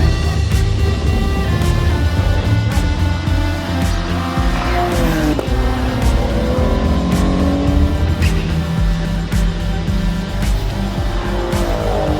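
A race car roars past at speed, engine revving and shifting, with tire noise as it accelerates and its pitch sweeps down near the middle.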